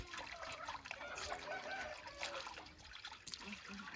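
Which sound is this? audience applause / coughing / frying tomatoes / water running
water running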